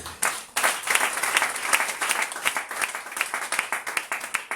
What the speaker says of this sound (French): Alléluia. Acclame Jésus.